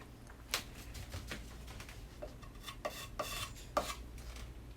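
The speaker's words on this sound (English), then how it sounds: "then you're going to turn it upright and scrape the extra off" Excess wood filler is scraped off a dresser in a series of short, separate rasping strokes, faint to moderate and close, with small clicks between them.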